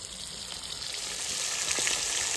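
Fish frying in hot oil gives a continuous close sizzle with scattered soft pops and crackles, and no voices.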